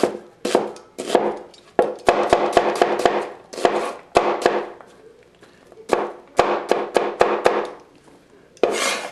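Knife chopping cabbage into bite-size chunks and dicing onion on a cutting board: bursts of quick, sharp, close knocks in uneven runs with brief pauses, no talking.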